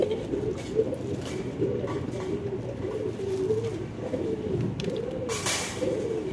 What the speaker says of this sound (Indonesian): Yang betina merpati, merpati pos, jantannya merpati kolong.